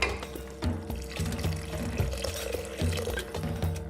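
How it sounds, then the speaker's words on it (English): Water poured from a tap or jug into a soup pot of softened, cooked-down vegetables, a steady splashing flow with soft clinks and background clatter throughout. "So I'm going to top it up with some water."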